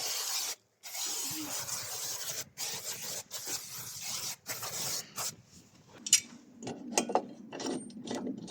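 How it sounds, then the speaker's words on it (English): Protection wax sprayed onto the deck of a new Honda HRX 537 lawn mower, several bursts of aerosol hiss separated by short pauses, close and fairly quiet, followed by faint clicking and handling noises. "I'm just going to spray a bit of protection wax"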